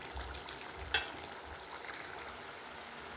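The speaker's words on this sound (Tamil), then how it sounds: "நம்ம சம்பல் வந்து நல்லாவே கொதிச்சு வருது பாருங்கள்." Dried seer fish sambal simmering in oil in a pan, a soft, steady sizzle and bubbling with one small clink near the start.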